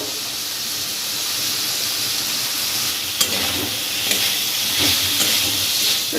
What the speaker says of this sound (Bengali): এবার আমি এর মধ্যে দিয়ে দেব বরবটিগুলো।